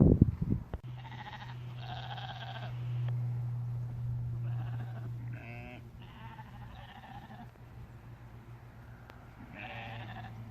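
Sheep bleat outdoors near the Ambergate ROC post in Derbyshire: several clear, wavering calls at mid distance, spread across the stretch, over a steady low hum and quiet background.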